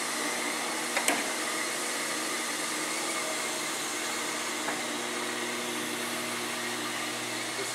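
An AM RK-2100 bagel divider/former runs with a steady mechanical hum and whir, a couple of faint clicks near the start, continuing evenly throughout with no voices.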